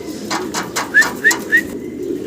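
Danish pigeons coo close by on a large farm in a soft rhythmic series of low, rounded calls, several birds overlapping and repeating at a steady pace.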